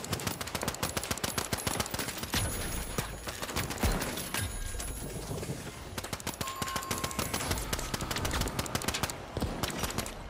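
Rapid automatic gunfire from a light pistol in the video game The Finals, dense bursts of close, loud shots nearly continuous throughout, with faint mechanical clicks and no talk.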